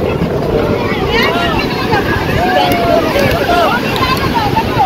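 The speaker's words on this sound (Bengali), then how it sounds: "আর ওদিকে চলছে হচ্ছে জেট স্কি" A jet ski runs offshore at a beach, its engine a steady droning whine heard beneath wind noise on the microphone, continuous and fairly loud throughout.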